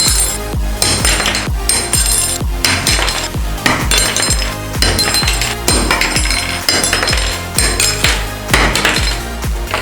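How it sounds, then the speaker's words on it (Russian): A metal spoon is repeatedly dropped from a height onto kitchen countertop samples such as granite, giving a rapid series of sharp, loud clattering impacts and ringing clinks close to the mic with no talking. "мы будем просто кидать ложку с высоты, молоток с высоты на все материалы"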